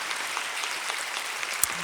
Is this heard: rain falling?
no